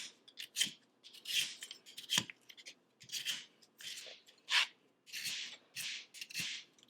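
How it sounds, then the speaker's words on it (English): Potatoes are peeled for French fries, a series of short, rhythmic scraping strokes from a peeler, each a brief rasp with small pauses between, close and fairly quiet. "Take the peels off."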